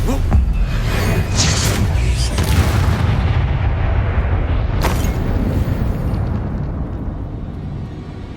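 An Expulso spell explodes in the Hogwarts Legacy video game as one loud, sustained blast with rumbling debris that slowly fades, followed by a sharp crack partway through.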